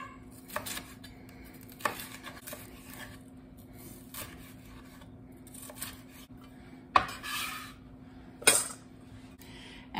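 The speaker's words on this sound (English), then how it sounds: "we'll go ahead and slice these" A knife slices vegetables for a fajita topping on a cutting board, giving sparse, irregular crisp strokes and soft knocks, a few louder ones near the end, with no talking.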